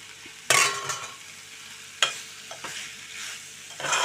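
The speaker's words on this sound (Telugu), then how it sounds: "కొంచెం మనం దీన్ని ఇలా ఫ్రై చేసుకుందాం కాసేపు" Cluster beans fry in a pan with a continuous sizzle, punctuated by a few sharp bursts as a spatula stirs and tosses them, close and clear without speech.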